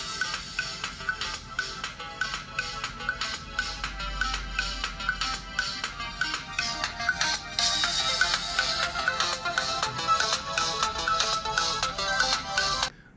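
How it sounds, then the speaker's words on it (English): Ringtone melody played through the loudspeaker of an Infinix Hot 30i phone, a bright continuous tune running for about thirteen seconds with a brief louder stretch midway, heard alone. "this is an audio sound test from the speaker"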